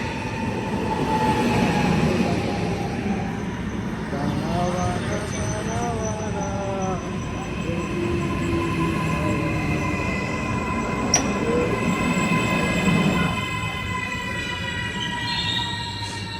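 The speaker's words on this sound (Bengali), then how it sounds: "এই যে আমাদের ট্রেন চলে এলো" A train pulls into a station in Rome, its steady rumble and rolling wagons filling the platform, with squealing wheels and brake tones rising above the noise as it slows; people talk nearby.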